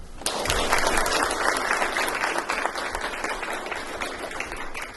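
An audience at the 2021 Ocean Shores City Council position 7 debate applauds to welcome the candidates, a dense, steady wash of many hands clapping that starts abruptly and holds for several seconds, slowly thinning.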